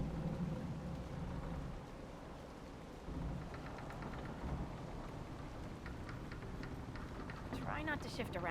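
Steady rain pours on the Storm Coast in Dragon Age: Inquisition, a constant dense wash with low thunder rumbling beneath it, and a voice is heard over the storm.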